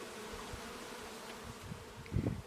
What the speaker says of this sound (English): the other bees will enter the hive on their own once they settle down